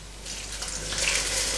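A cup of cold water is poured into a hot pan of broccoli stoemp with butter, giving a short, close rush of splashing and sizzling hiss that swells toward the end.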